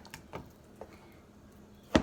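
Chicken being cut into bite-sized pieces on a chopping board, with a few sparse, quiet knife knocks followed by one sharper, louder chop near the end.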